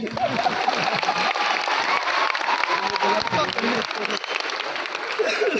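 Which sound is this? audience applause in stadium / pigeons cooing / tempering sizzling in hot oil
audience applause in stadium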